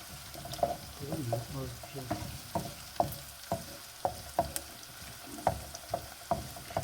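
Onions and chicken sizzle softly in a pan with a steady hiss, punctuated by regular scraping taps of a utensil stirring.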